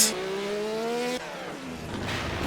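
A 900-horsepower, 600-kilo race car in Project CARS revs hard, its engine whine climbing in pitch, then drops briefly at a shift before climbing again, loud and close with no talking.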